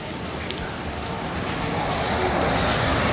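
Heavy early-morning rain pours down steadily in a village in Savannakhet, Laos. The wash is dense and continuous, loud and close, and it thickens slightly toward the end.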